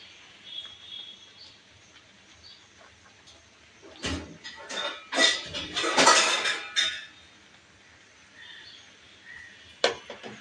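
A lid clatters onto a metal cooking pot in a brief cluster of close clinks and scrapes, flanked by quiet kitchen background with faint birdsong and a final sharp tap.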